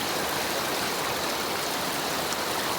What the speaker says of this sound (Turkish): Bu şekilde dağın altından kaynak bir şekilde suyumuz çıkıyor.